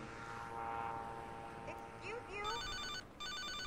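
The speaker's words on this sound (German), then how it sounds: "Kriegen wir wahrscheinlich eh gleich einen Handyanruf." A mobile phone rings during open-world play in GTA Liberty City Stories, a repeating electronic ringtone rising in the second half over steady game engine hum and ambient traffic noise.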